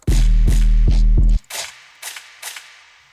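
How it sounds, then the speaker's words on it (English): Two gunshot sound effects are set in a beat after a pounding sequence of loud, heavy bass hits, the two sharp cracks ringing out alone and fading near the end. "I just put 2 gunshot sounds. So it sounds like this."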